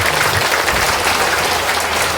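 Steady, dense applause from a large audience at a public speech on poverty in Bihar, loud and continuous throughout with no voices rising above it.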